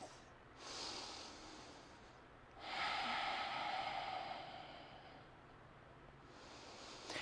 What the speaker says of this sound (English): Ujjayi breath.